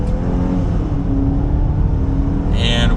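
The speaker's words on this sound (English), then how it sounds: "We're gonna use the paddle shifters and just give it a little bit of gas from first gear." A 2020 Land Rover Discovery Sport R-Dynamic accelerating from first gear in manual paddle-shift mode, heard from the cabin as a steady loud engine and road drone that rises slightly, ending with a brief higher-pitched sound.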